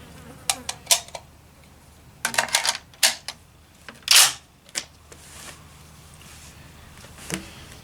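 Cartridges being pressed into the magazine of a Swiss K31 rifle at a shooting range, giving a close, irregular string of sharp metallic clicks and snaps with short pauses between them.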